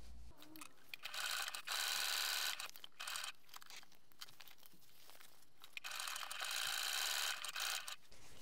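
A sewing machine runs in bursts while topstitching a bag seam, steady mechanical whirring stretches broken by short pauses, close and fairly loud.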